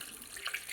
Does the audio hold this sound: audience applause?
no